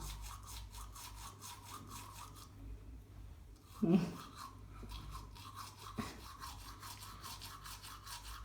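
A child brushes teeth with a toothbrush, giving a steady scrubbing rasp through most of the stretch, with a louder knock near the middle and a click later.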